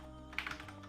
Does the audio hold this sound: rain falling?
no